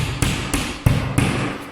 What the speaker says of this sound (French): Là, vous prenez le marteau et puis on y va.